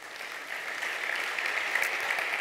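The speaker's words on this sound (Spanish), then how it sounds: "Dale un fuerte aplauso al Rey." A church congregation applauding together, a steady wash of many hands clapping at moderate distance that builds slightly and holds for a couple of seconds with no speech over it.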